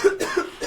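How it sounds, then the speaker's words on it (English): A single short, close cough from a person, a couple of quick throaty bursts within under a second. "I've been coughing."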